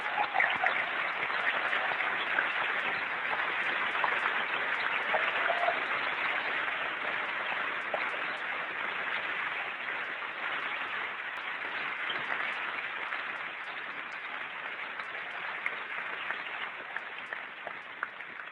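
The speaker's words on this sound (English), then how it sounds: "I'd like to give them a round of applause." A large Macworld New York 1999 audience gives a long, sustained round of applause, a dense, even wash of clapping that holds steady and fades slightly over nearly twenty seconds, heard from some distance.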